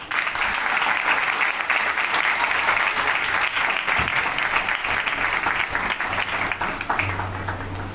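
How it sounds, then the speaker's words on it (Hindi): Congregation at a Christian worship service in Makkah Colony, Lahore, applauding steadily and loudly for about eight seconds, with a low droning tone entering near the end. "हम भाई के लिए ताली बजाएं"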